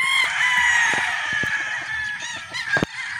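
A gamefowl rooster at a game farm in Batangas lets out a long, loud crow nearby, a sustained strained call that wavers and breaks off near the end.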